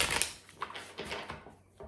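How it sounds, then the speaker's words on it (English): A tarot deck being shuffled in a kitchen, a quick papery riffle of cards followed by a few softer flicks and taps. "We're going to shuffle one more time."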